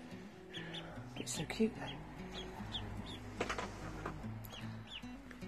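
A baby domestic duckling peeps with short, high chirps scattered through the scene, close by and fairly soft, while people chat around it indoors.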